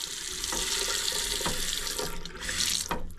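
A newly installed bathroom faucet runs steadily into a sink drain, a continuous loud hiss of flowing water splashing into the basin with faint knocks underneath.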